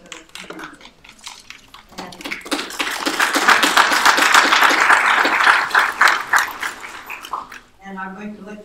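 An audience breaks into applause, swelling from scattered claps into a dense, loud burst of many hands, then tapering off as a voice begins speaking at the end.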